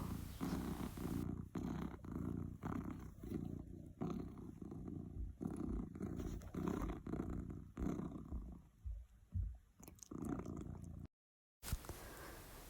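A house cat purrs steadily up close, the rhythmic rumble running almost continuously with soft breaths between, then a brief gap of silence near the end.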